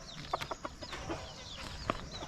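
A Kadaknath rooster clucks in short, soft bursts against a busy outdoor background of birds and ambient noise, with no one speaking.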